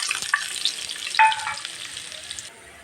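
Cumin, onion, garlic and dried red chillies hit hot oil for a tempering, a bright, loud sizzle that surges when more goes in, then drops suddenly near the end.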